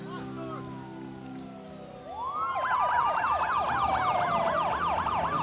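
A steady low hum gives way to loud, overlapping emergency sirens wailing up and down in quick cycles, several layered together and close by.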